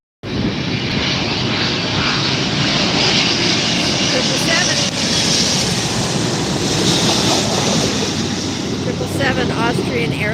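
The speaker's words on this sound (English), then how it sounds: "777 Austrian Airlines. Arriving from Vienna, this is Austrian Airlines Flight 81. touching down." Austrian Airlines Boeing 777 touching down at Los Angeles airport on a flight from Vienna, a loud unbroken roar of jet engines and rushing air that holds steady throughout.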